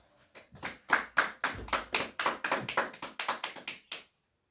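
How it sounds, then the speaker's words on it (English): A small audience gives a round of applause at a gathering, a burst of sharp distinct claps from a modest number of hands that builds quickly, holds for several seconds, then stops cleanly. "Round of applause for that."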